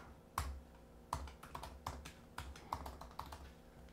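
A password is keyed in on a computer keyboard, about a dozen close, distinct key clicks in an uneven rhythm, with nothing else around them.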